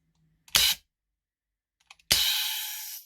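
Webley MK6 replica revolver firing: a sharp click-like snap followed after a pause by a louder crack with a short hissing tail, close and alone.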